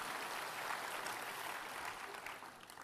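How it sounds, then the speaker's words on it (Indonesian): Church congregation applauding for Jesus during a sermon, a brief, fairly faint burst of dense clapping that fades slightly at the end. "tepuk tangannya sekali lagi buat Tuhan Yesus"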